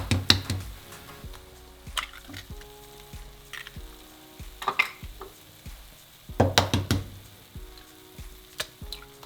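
Eggs sizzle and fry in a pan for a breakfast egg burrito, with a steady crackle broken by several louder bursts of spatter and stirring clatter, close and alone with no voices.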